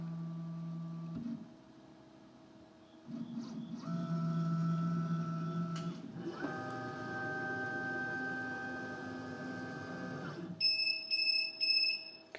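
A Makera Carvera Air desktop CNC machine sounds a series of electronic beeps and sustained tonal alerts between quiet pauses, ending with bright, rapidly repeating chirps; no one speaks.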